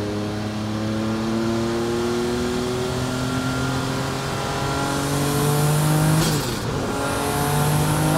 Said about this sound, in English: Some of the sounds of the flutters of the wastegate.